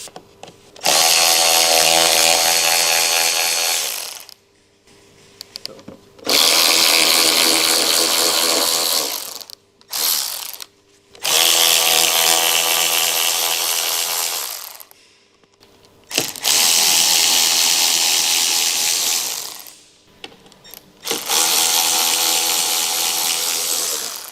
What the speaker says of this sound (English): Use a small 8mm deep socket with a small electric wrench. Remove the molding base retaining bolts.